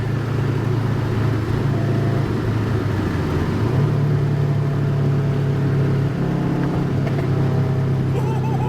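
Engine and exhaust of a 2003 Subaru WRX fitted with a catless downpipe, a steady loud low rumble with a brief rise in revs midway, heard close and continuous throughout.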